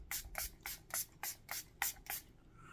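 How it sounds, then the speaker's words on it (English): Eight quick bursts of a pink charcoal watermelon face mist hiss from a pump spray bottle in a steady, evenly spaced rhythm, close and crisp. "now I'm gonna spray my face with this pink charcoal watermelon spray."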